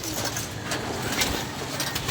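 Pigeons being sold coo against a noisy, crowded background, with soft low calls partly masked by broadband clatter and a brief sharp sound near the middle.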